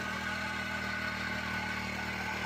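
A four-stroke petrol engine on a power weeder runs at a steady idle, a continuous, even mechanical drone with no talking over it.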